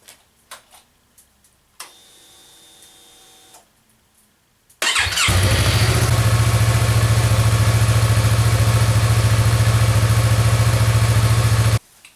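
A Yamaha MT-03 R3 motorcycle with its stock exhaust makes some faint clicks and a brief starter tone. Then the engine fires up loudly and settles into a steady, close idle that runs for about seven seconds before it cuts off.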